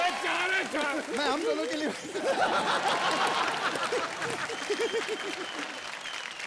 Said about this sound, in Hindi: दोनों सुपरस्टार्स के लिए जोरदार तालियां।